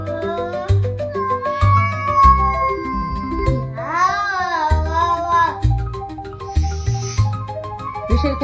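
A cat meows loudly and repeatedly in long, drawn-out high-pitched calls while a person imitates its meow back, matching the high pitch, the two voices trading calls up close.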